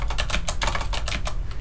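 Rapid, steady keystrokes on a computer keyboard, close and crisp, with about a dozen clicks in quick succession and no voices.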